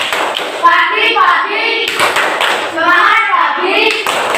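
Young pupils in a second-grade class clap through a cheer routine, with rhythmic hand claps and thumps mixed under their loud chanted voices close by.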